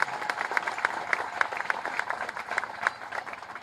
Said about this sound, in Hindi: सब आदमी ताली बजा के